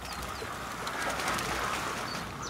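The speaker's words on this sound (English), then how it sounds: "Ducks." Ducks in the video game A Plague Tale: Innocence, heard as faint, scattered bird calls over a steady wash of ambient background noise, with no talking.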